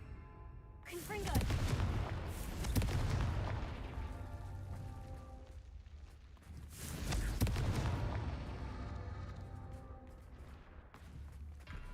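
Two booming Confringo blasting-spell explosions in Hogwarts Legacy, each a loud burst with a rumbling tail a few seconds apart, with game ambience and some faint talk.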